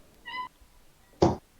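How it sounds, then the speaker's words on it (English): A cat gives a single short, clear meow, followed a moment later by a dull thump. Both sounds are close and stand alone in a quiet room. "There's Kitty. I hear it"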